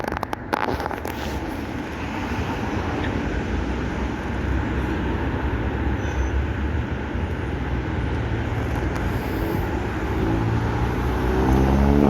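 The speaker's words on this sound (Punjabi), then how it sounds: "ਦੇਖੋ ਟ੍ਰੇਨ ਆਈ" A continuous heavy rumble and roar of a train passing beside a canal in Wolverhampton, UK, loud and close, building slightly toward the end with a faint high hiss above.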